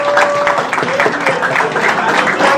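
An audience at a university ceremony applauds an honoree, a loud, dense wash of clapping that holds steady throughout, with voices and a tonal hum blended underneath.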